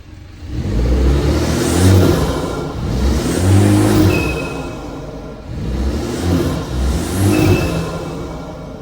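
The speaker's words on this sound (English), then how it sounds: "now listen to what the intake sounds like when I'm brake boosting the car" A BMW 330i with an AEM cold air intake being brake boosted: two long swells of deep engine rumble and intake roar, close and loud, easing off between pulls.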